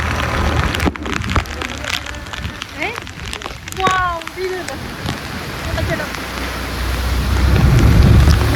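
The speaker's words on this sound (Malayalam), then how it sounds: "ഒരു തോർച്ചയില്ലാത്ത മഴയാണ്," Heavy, unceasing rain pours continuously in a loud, even wash in Vagamon, with a voice speaking briefly over it.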